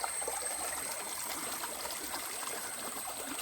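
Small stream near a home flowing steadily, a soft continuous trickle and gurgle of water with no voices, even in level throughout.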